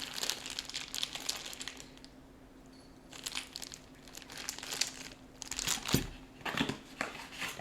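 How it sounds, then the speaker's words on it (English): Packaging for a Scythe Shuriken 2 CPU cooler is ripped open with bursts of crinkling and tearing plastic and cardboard, broken by short pauses and ending in louder rustling. "I'm going to have to rip this one open."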